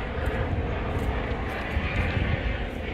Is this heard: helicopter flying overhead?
yes